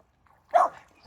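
A dog gives a single short bark by a river, faint and slightly distant, with quiet surroundings before and after.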